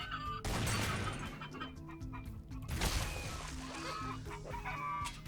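Chickens cluck and squawk busily in the blocky survival game Minecraft, close and loud, with overlapping calls and a brief burst of crowing-like cries.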